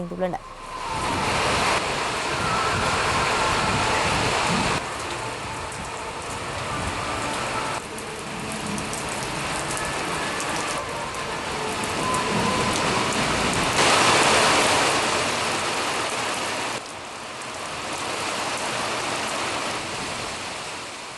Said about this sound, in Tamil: நல்ல மழை பெய்ததால் பொதுமக்கள் மகிழ்ச்சி அடைந்தனர்